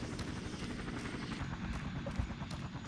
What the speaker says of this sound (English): American helicopters are flying overhead, bringing their tyranny with them.